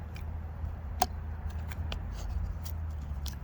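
Morakniv Kansbol fixed blade knife cutting through very dry, hard material, giving a sharp snap near one second followed by a series of faint scraping ticks over a steady low hum.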